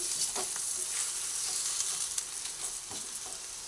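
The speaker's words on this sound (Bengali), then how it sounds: "কাশ্মীরি লঙ্কার গুঁড়ো দিয়ে দিলাম কালারের জন্য আবার ভালোভাবে নাড়াচাড়া করে করে ভেজে নিচ্ছি" Papaya spiced with Kashmiri chilli powder frying in a pan, a continuous close sizzle with light scrapes and clicks from stirring throughout, no talking.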